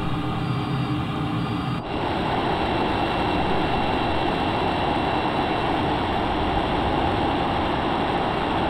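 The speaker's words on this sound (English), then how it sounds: "the scramjet kicks in" Roaring jet engine of the Darkstar aircraft as its scramjet kicks in at high altitude in a flight video game, a dense, steady, loud rumble that swells sharply after a brief shift and then holds constant.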